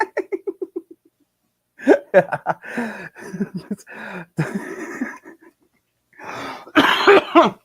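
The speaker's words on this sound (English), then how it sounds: "You're gonna keep getting me coughing." A burst of coughs and wheezy, laughing breaths, some rapid and rhythmic, broken by short pauses, close and fairly loud.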